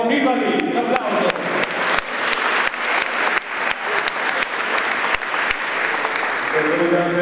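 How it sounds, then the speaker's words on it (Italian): An audience at the Giro d'Onore 2014, an Italian cycling award ceremony, applauds loudly and steadily for several seconds, a dense wash of clapping with a voice heard over it. "Vincenzo Pipari, un applauso."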